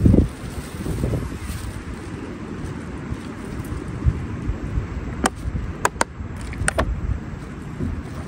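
Gusty wind buffets an outdoor microphone in a steady low roar, with a few sharp handling clicks toward the end and no speech.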